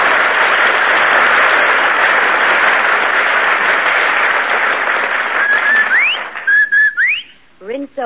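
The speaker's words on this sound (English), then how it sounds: "you'll take a tip from that Rinso whistle." A broad, steady hiss like applause gives way to a short rising whistled jingle from a Rinso soap advertisement, a few bright whistled notes in quick succession near the end.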